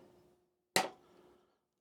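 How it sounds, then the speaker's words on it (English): One sharp metallic tap as a hammer strikes a centre punch on a David Brown 990 tractor draft control part, short and close, ringing briefly before fading into quiet. "Centre pop, hammer."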